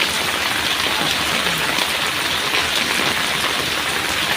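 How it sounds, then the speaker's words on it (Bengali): Steady rain pours down, a dense, even hiss of drops hitting surfaces nearby without a break. "সকাল সকাল দাঁড়িয়ে দাঁড়িয়ে বৃষ্টি দেখতেছে।"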